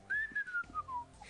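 A person whistles a short, quiet falling tune, a few gliding notes in quick succession, heard alone with nothing else around it.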